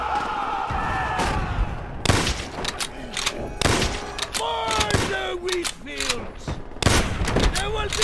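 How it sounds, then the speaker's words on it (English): Gunfire bursts from the video game Call of Duty: World at War ring out in sharp, repeated cracks over battlefield noise, mixed with loud shouted voices and in-game dialogue throughout. "Oh, I shot a comrade."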